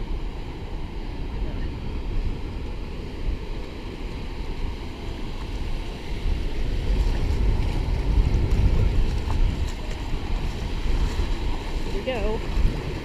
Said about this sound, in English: the waves are a little high